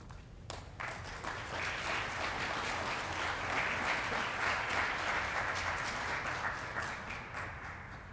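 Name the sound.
audience applause at hall of fame ceremony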